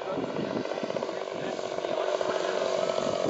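A radio-controlled plane with a 100cc engine and EME mufflers drones steadily in flight, a continuous buzzing roar at moderate distance that slowly swells in loudness.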